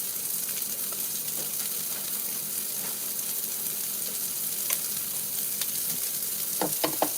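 Homemade meatballs frying in a pan sizzle loudly and continuously, with a dense hiss and a few sharp pops and clicks near the end.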